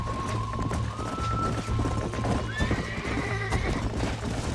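A horse gallops and neighs in the Red Dead Redemption video game, with loud, steady clip-clop hoofbeats under a few drawn-out whinnies, and someone talks over the game sound.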